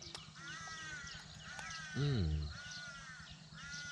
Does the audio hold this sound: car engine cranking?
no